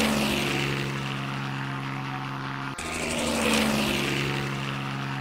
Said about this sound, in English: 3 helicopters behind us.